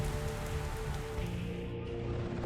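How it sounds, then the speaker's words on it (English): Steady rain and thunderstorm ambience in the DCS World flight simulator, with droplets striking water, forming a dense, continuous patter that holds at an even level throughout with no voices. "When the temperature is above freezing, you have the option for rain and thunderstorms."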